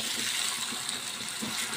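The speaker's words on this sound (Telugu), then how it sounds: "ఇంట్లో కొంచెం వాటర్ వేసుకుందాం." Water poured from a vessel into a pan of stuffed brinjal curry (gutti vankaya), a short, soft, steady splashing gush that runs evenly without pause.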